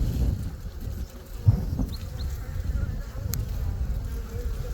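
Honey bees hum in a low, steady drone around an open Apimaye hive during an inspection, a close buzzing wash with faint wind over the microphone.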